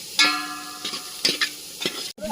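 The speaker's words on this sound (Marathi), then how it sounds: "आता कांदा भाजून घ्यायचा आहे" Onion dry-roasting in a pan for a village chicken curry, stirred with a few distinct scraping strokes and a faint sizzle, close and fairly loud with no talk.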